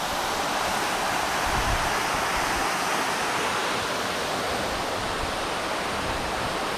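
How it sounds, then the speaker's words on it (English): A waterfall in the forested mountains of Boquete, Panama, roars as a steady, loud rush of falling water, continuous and close for the whole stretch with no voices. "Just made it to the 3rd waterfall here."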